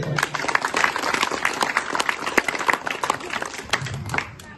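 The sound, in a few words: audience applause at school magazine launch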